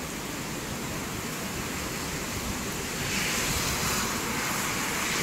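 Strong, steady wind roars through trees, a broad rushing hiss that swells louder partway through, with no voices.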